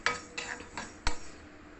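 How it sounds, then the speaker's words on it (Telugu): Fenugreek seeds roast in a pan for jaggery avakaya pickle while a ladle scrapes and taps against the metal, a few short strokes with one sharper knock, close and quiet, with no voices. "మెంతులు కొంచెం వేగాయండి."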